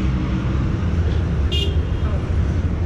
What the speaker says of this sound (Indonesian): Sorry ya, guys, kalau suaranya berisik, suara mobil.